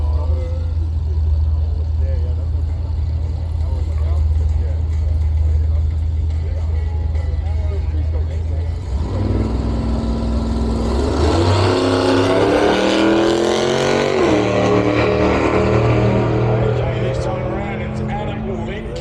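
Two cars, a utility and a station wagon, launch in a drag race at a drag challenge event, steady loud engine drone building into a rising roar with shifting revs, under continuous commentary from an announcer.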